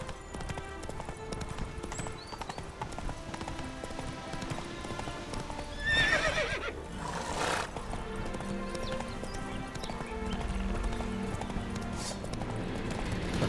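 Roach, the horse in The Witcher 3, gallops in a steady rhythmic clip-clop of hooves, with a whinny partway through and faint game ambience underneath.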